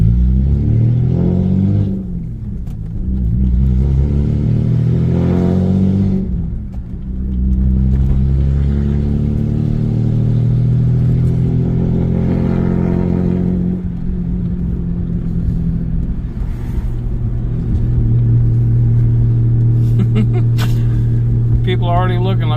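Straight-piped V6 car engine with a 5-speed and loose motor mounts, running loud with a deep droning exhaust rumble and rising revs, heard close up under ongoing talk throughout.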